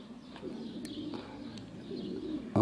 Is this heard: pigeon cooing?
yes